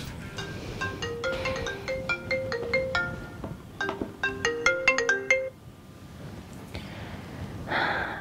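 A melodic phone ringtone plays a bright repeating tune of quick chiming notes, pausing briefly and resuming, with soft breathing sounds at the end.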